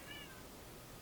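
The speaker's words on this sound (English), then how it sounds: "That was the cat." A house cat gives a single short meow at the very start, faint and brief against a background of steady hiss.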